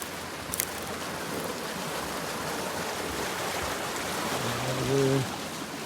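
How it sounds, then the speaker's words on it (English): Water rushes steadily where it is diverted out of a larger canal beneath a small access road near a gate, a constant broadband hiss with a brief low engine-like hum near the end. "Here's where the water gets diverted out of this bigger canal"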